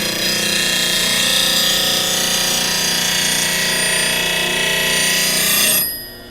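A bench grinder sharpens a woodturning tool held on a Robo Rest sharpening platform, giving a loud, steady whirring grind close by that cuts off abruptly near the end.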